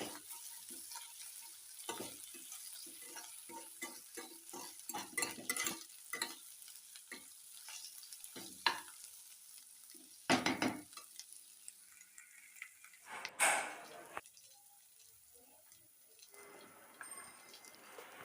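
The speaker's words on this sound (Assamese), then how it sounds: "আমি ইয়াতে আদা নহৰুখিনিও দি ল'লোঁ আৰু ভাজি লৈছোঁ।" Ginger and garlic fry in a pan for a chili fish dish, a quiet crackling sizzle broken by rhythmic scraping stirs of a spatula, with a couple of louder clattering strokes later on.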